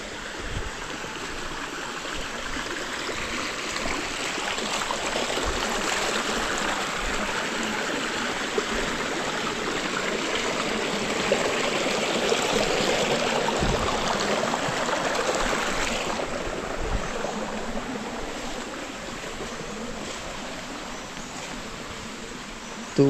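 A natural village spring runs steadily near a rural barangay, a continuous broadband rush and trickle of flowing water with faint insect-like ticks, holding an even level for over twenty seconds with no talking.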